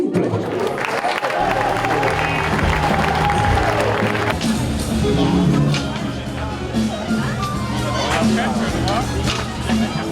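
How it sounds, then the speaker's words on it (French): Audience applause at the Jazz à Vienne festival: a crowd claps and murmurs throughout, with the clapping swelling midway amid chatter and cheering, fairly loud and continuous beneath a speaking voice. "Sous vos applaudissements, millésime simple."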